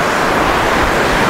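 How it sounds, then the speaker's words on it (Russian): Sea surf breaking steadily on a beach at the Vityazevo resort on the Black Sea coast, a continuous close roar of waves with wind noise on the microphone and no voices. "семья уже расположилась на лежачках и смотрит на море, слушает шум прибоя"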